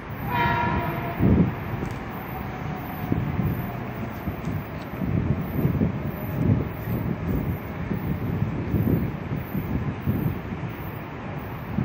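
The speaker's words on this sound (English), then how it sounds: "This train's going to New Haven." A Metro-North train rolls through Stamford station with a loud, continuous rumble and rhythmic clatter of wheels. A horn blasts near the start, and wind buffets the microphone throughout.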